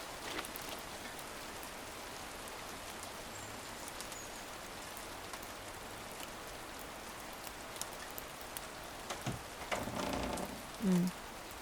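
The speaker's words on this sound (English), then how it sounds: "Oh, I love a good rain." Steady rainfall in the video game A Storied Life: Tabitha, a soft continuous patter with faint scattered drops, joined near the end by a few brief interface clicks.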